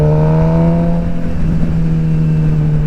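A motorcycle engine revs steadily up close on a cloudy, rainy day, holding a loud, continuous droning note with a slight dip partway through.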